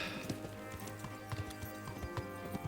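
Horse hooves clip-clop steadily on the ground in the Kingdom Come: Deliverance video game, a run of close, fairly loud hoofbeats with game music and ambience running underneath.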